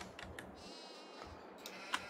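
Sheep in the video game Farming Simulator 22 give a few faint, brief bleats over a soft, noisy farmyard background, with a small click near the end.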